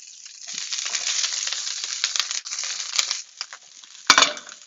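Broccoli dropping into a hot pan, a close crackling, crunchy sizzle that builds and fluctuates, then a sharp clatter near the end, with no talk.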